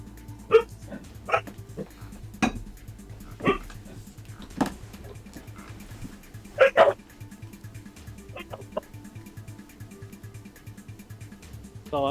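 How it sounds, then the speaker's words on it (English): Dogs barking indoors in scattered sharp bursts, several near and loud, with some yips and whimpers between them over a quiet background. "dogs."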